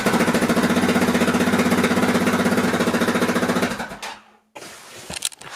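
Yamaha XT 660 single-cylinder motorcycle engine fitted with a 2-in-1 Dominator exhaust, idling loud and close with a steady rapid thumping pulse for about four seconds, then cut off, leaving faint shuffling and clicks.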